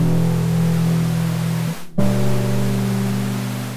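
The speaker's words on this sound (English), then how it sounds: "This one adds some white noise." An effect pedal pushing a constant wash of white noise over a low sustained tone, loud and steady, dropping out briefly near the midpoint before resuming.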